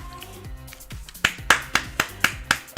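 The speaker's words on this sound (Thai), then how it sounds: "ปรบมือค่ะ คนนี้แม่ปรบมือ" Sharp hand claps ring out in a steady rhythm, about eight in a row, over faint background music.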